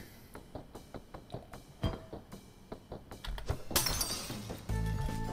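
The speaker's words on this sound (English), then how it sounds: "I'm very interested in the light bulb smashing." Light bulbs smashed in the game Night in the Woods: a run of sharp ticking impacts leads into a bright, loud burst of shattering glass, followed by a lower sustained rumble.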